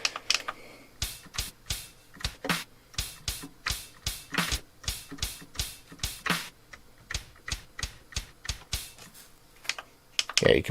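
Pads on a Novation Circuit Rhythm are tapped in a brisk run of sharp, clicky hits, close and fairly steady across the clip, with a faint voice near the end.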